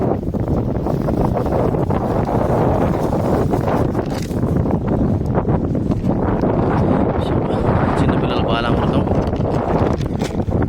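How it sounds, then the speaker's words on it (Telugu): Strong wind buffets the microphone at an outdoor lakeside spot used for bottle fishing for tilapia, a loud, steady roar that lasts the whole time while someone talks over it. "గాలి బాగా వస్తుంది"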